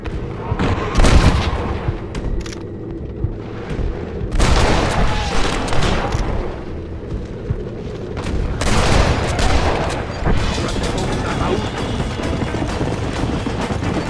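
Gunfire in the video game Red Dead Redemption, set in Nuevo Paraiso: loud, dense volleys of shots and booming blasts fill the scene, with heavy bursts recurring every few seconds.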